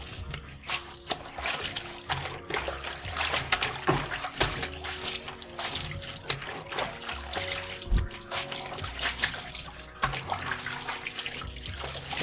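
Clothes being hand-washed with soap in a basin of water, close and steady, with continuous sloshing, trickling and dripping through the whole stretch and no talk.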